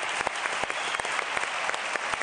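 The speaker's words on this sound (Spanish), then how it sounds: "Fuerte el aplauso para ellos." An audience at a live magic show claps in a dense, steady burst of applause, loud and full throughout with crowd noise underneath.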